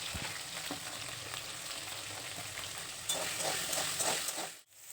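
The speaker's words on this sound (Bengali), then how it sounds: "এবার মেটে আলুগুলোকে একবার ভালো করে ভেজে নেব।" Pieces of yam frying in mustard oil in a wok with a little salt and turmeric, a steady crackling sizzle that holds evenly, grows a bit louder near the end, then briefly cuts off.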